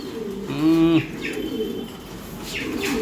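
A racing pigeon gives one clear, close cooing call with a rising and falling pitch, followed by quieter chirps and soft rustling against a steady background hum.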